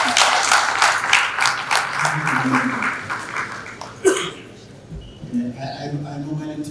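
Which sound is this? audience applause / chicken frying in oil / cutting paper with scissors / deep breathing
audience applause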